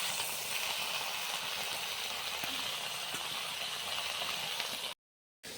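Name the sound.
taro leaves (kochu shak) boiling under a lid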